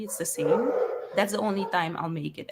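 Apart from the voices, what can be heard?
dogs barking in the back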